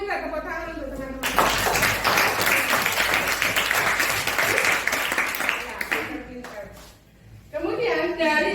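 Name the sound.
applause, clapping for classmates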